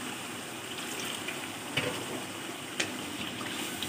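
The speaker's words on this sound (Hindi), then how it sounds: "अब इसको दही शामिल करने के बाद हल्का सा पानी शामिल करेंगे" Water pours steadily into a pot of chicken and chickpea curry after yogurt has been stirred in, a continuous close splashing gush with a couple of brief clinks, no talking.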